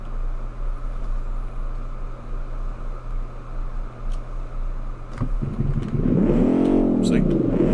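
Video game car engine, a modded car in an automodding session, droning steadily before revving up in a rising, sweeping whine, heard under ongoing talk.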